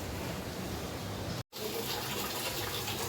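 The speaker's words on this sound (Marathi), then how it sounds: "मम्मा तर पाणी भरते" Tap water running steadily into a container in a home kitchen, a continuous close rush with a brief cut near the middle before the flow resumes.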